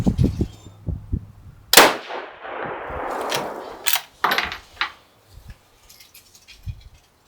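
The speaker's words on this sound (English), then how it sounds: "It is a cold bore shot." A single cold-bore shot from a 6mm GT rifle firing a 108-grain Berger bullet cracks loudly outdoors and rolls off in a long fading echo, with soft handling clicks before and after.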